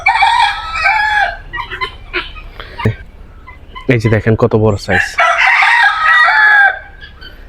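Red junglefowl roosters crow repeatedly in a safari park cage, loud close calls with clucking between, while someone speaks briefly in the middle.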